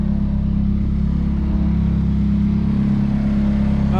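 Warmed-up drift car engine holding a steady, loud mid-pitched drone with slight revving swells at a wet drift event, close by and alone without voices.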